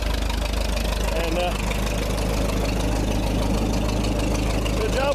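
Late model race car engine idling after carburetor tuning, a loud, close, rough and lumpy rumble that holds steady throughout, with a brief spoken word under it.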